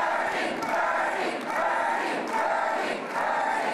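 A crowd of over 3,000 at a Bernie Sanders rally in the Chase Center, Wilmington, Delaware, roars and cheers in repeated swelling waves, heard from a distance.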